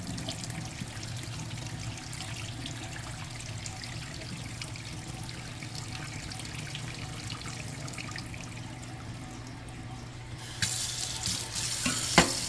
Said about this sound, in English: And I'm gonna pour off the hot water.